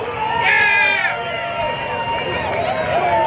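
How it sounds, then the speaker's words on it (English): Spectators in the stands at Grand Bend Motorplex drag strip roar and shout together, a dense and loud sustained cheer with voices whooping above the crowd noise. "The crowd is wild tonight."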